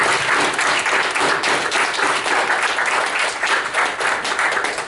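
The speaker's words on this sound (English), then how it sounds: "I'd like to get one final round of applause for Dr. Thomas Dolan for all the work that he's done" An audience at a college board of trustees meeting applauds a doctor, a dense, steady roar of many hands clapping, loud and continuous for the whole stretch.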